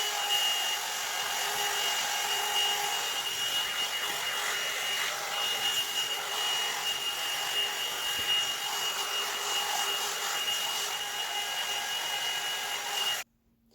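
A hair dryer blows steadily while thin, fine hair is blow-dried over a round brush, a constant close whooshing hiss with a high whine that holds unchanged until it cuts off abruptly at the end.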